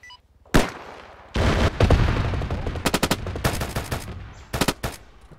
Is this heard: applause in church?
no